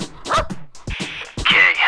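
Small bursts of yips and whimpering from a dog in a video game, several short sharp cries with a high drawn-out whine near the end, close and clear.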